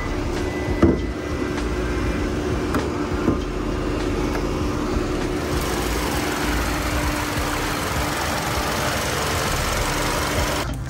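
A 1.6-liter turbocharged engine in a 2023 Hyundai Sonata runs steadily at idle, a constant close-up drone with a faint hiss and no one speaking.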